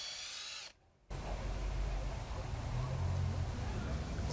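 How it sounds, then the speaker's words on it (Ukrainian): After a brief cut to silence, a small power drill whirs steadily at close range, drilling holes in a homemade fishing lure, a low motor hum that rises slightly toward the end. "Свердлимо отвори."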